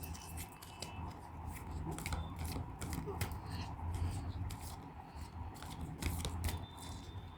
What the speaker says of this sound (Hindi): मैं 3 कार्ड निकालती हूँ इसमें से